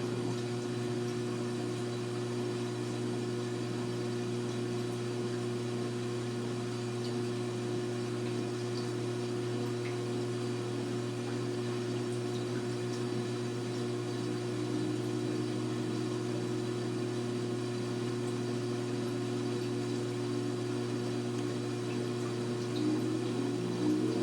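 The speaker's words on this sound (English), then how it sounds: "Now if your washer makes a grinding noise like this one, there's definitely something wrong." An LG top load washer spinning in test mode drones steadily with a low hum and a continuous grinding rumble, even and unbroken for the whole stretch.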